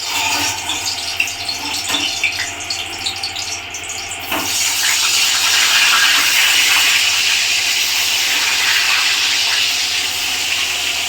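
Eggplant slices frying in hot oil in a home kitchen pan, a steady close hiss and sizzle that swells louder after a few seconds and holds on continuously with no talking.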